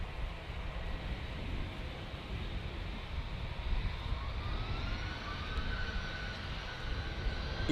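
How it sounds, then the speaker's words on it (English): An EasyJet Airbus A320 taking off from Manchester for Prague, a faint, distant steady jet rumble with a thin tone slowly rising in pitch as it climbs away. "EasyJet's off to Prague, Airbus A320"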